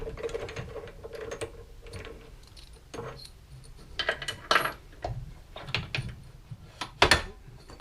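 A hand tap cutting threads into metal on a motorcycle carburetor part, turned and backed off to break the swarf, producing irregular close metallic clicks, scrapes and ratcheting ticks.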